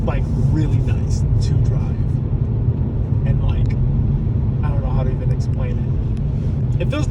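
A Hyundai Veloster N's engine and exhaust drone loudly from inside the moving car as the driver lifts off, with a steady low rumble, a few sharp pops and crackles, and someone talking over it throughout.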